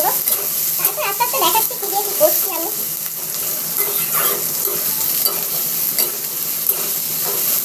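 Onions fry in oil for Bengali chicken kosha with a loud, continuous crackling sizzle and occasional stirring scrapes, while someone speaks briefly over it near the start.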